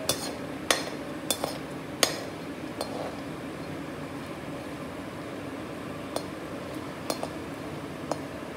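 Spoon clinking against a pan while halwa with almonds is stirred, a few sharp metallic taps early on, then sparse clinks spread over a quiet, low-level background.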